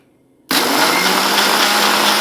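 A kitchen blender whirring up lemonade with mint leaves and sugar kicks on suddenly after a brief quiet moment, then runs as a loud, steady, close whir.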